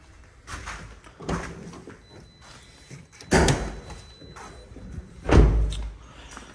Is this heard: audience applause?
no